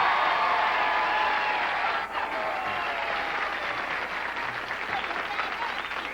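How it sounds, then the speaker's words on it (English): Studio audience applause on a 1979 television game show, a broad, steady roar of clapping that holds evenly for about six seconds with a brief dip partway through, no talk over it. "I frankly will admit that I enjoy your applause"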